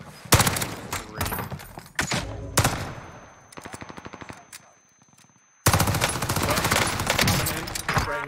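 Rapid bursts of automatic gunfire in a multiplayer shooter video game, loud and close, with dense volleys, a brief quieter stretch of lighter popping shots, then another heavy sustained burst.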